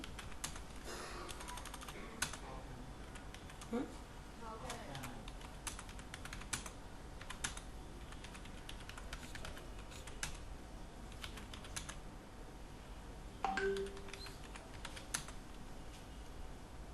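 Typing on a computer keyboard during a WordPress blog lesson: a steady run of close, crisp key clicks with scattered sharper taps and a few louder keystrokes, with no talk over it.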